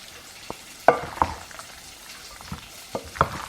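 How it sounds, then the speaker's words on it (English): Gammon fat sizzles and crackles in a hot pan, with scattered sharp pops and spits over a steady frying hiss, close by. "That sizzling is the fat from the gammon"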